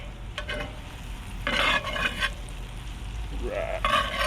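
Redfish sizzling on a grill over coals, a steady crackling fry with a few louder bursts of hissing, close and without any talk.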